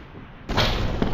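A truck blows apart in slow motion in the video game Brick Rigs: a heavy, booming blast that cuts in suddenly after a quiet lead-in and holds a loud, rumbling roar with crackling debris to the end.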